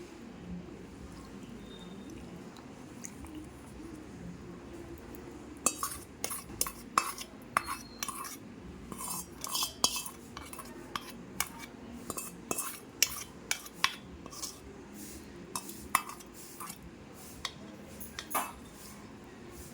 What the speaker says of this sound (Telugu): ఇప్పుడు మనం దీన్ని దీంట్లో వేసి కలిపేసుకుందాం